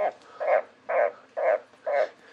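A frog croaks inside a terrarium, giving five evenly spaced, moderately loud calls in a steady pulsing rhythm with brief quiet gaps between them.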